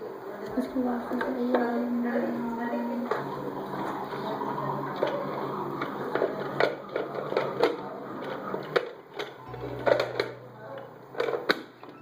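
Vegetables are chopped in a hand-pulled chopper for stuffed brinjal with rice, giving a rattling, whirring clatter in bursts, with someone talking throughout.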